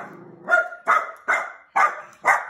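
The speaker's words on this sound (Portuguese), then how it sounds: "Vai, Cão Feroz, late para todo mundo, Cão Feroz, isso." Small dog barking indoors at home, five sharp, close barks in a regular rhythm after a brief whine, loud and alone.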